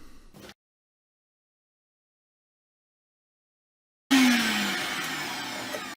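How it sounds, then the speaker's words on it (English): A vacuum cleaner starts up near the end, cleaning a Myford ML7 lathe during restoration, a loud steady whine with a falling motor pitch after a short burst of sound and four seconds of silence. "Then vacuuming."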